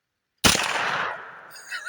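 A single sharp gunshot from a Bear Creek Arsenal BC9 at an outdoor range cracks out loud and close after a moment of silence, then rings off and fades quickly.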